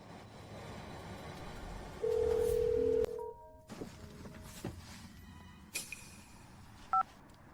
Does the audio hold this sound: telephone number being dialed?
yes